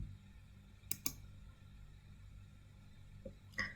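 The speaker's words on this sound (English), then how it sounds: "I'll type telco1 and click run." A few sharp keyboard or mouse clicks for running code in RStudio, two close together near the start and another near the end, faint against a quiet room hum with no talk.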